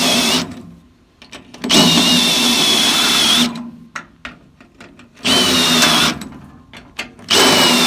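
A power drill bores into the steel floorpan of a 1968 Chevelle in three loud, sustained whining runs of about two seconds each, separated by quieter gaps with faint clanks and handling noise.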